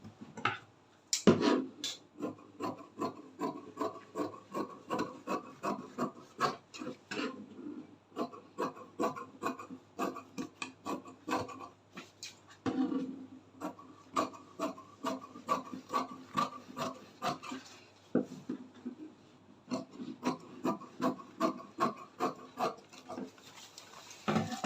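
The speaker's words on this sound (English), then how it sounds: "So I will just cut out this square fabric now." Scissors cut through square fabric in rhythmic bursts of short snipping and rasping strokes, close and fairly clear, with brief pauses between runs of cuts.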